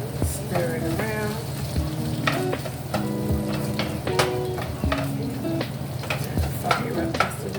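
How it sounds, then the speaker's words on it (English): Salmon and cabbage with shrimp sizzle steadily in a hot pan while a utensil scrapes and clacks against it in irregular bursts, close and moderately loud. "Frying up."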